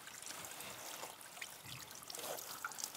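Running tap water trickles over hands in a soft, continuous, faint stream with a few light splashes, and no voices.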